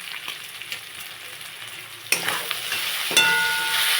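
Spice paste for a koi fish curry sizzles loudly in the pan, the hiss jumping sharply twice as it is stirred and turned, with continuous bright frying noise throughout.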